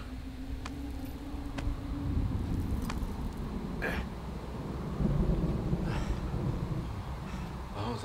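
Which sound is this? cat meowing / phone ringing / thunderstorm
thunderstorm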